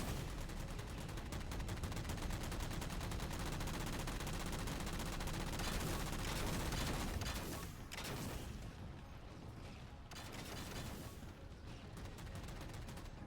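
Dense, continuous gunfire and explosions in the video game Halo 4, sustained rapid bursts that thin out briefly before resuming, loud and immediate throughout.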